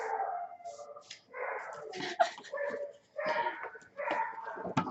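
A small Yorkie dog gives strange, howl-like barks in several uneven bursts, loud and close, trying to imitate a hound's howl.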